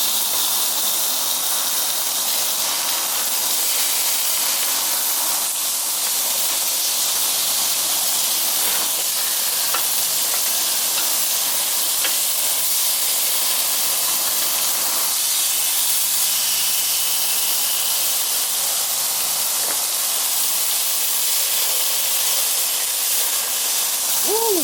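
Pork chops sizzling on a Weber Q grill, a steady loud hiss of fat and steam that runs unbroken throughout with no talk.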